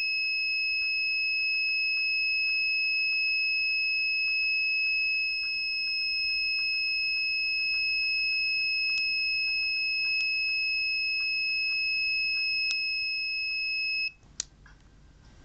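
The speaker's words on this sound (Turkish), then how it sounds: "Dört tane şifreye girdiğimiz zaman alarm sistemi susacak" A homemade smart home alarm system sounds a continuous shrill two-tone electronic beep with a few short key-press blips over it, before it suddenly cuts off near the end.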